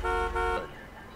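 A car horn in GTA 5 honks twice in quick succession, loud and close, with steady sustained blasts that cut off abruptly and leave quieter background game ambience.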